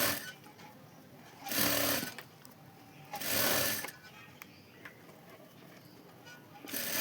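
A sewing machine stitches a small fabric mobile-phone pouch in two short bursts of loud, steady running, then a final brief burst at the end, with quiet gaps between.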